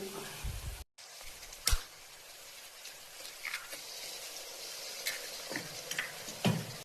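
Onions frying in a pan for an egg dish, a low continuous sizzle with scattered ticks and scrapes from stirring, and a brief dropout near the start.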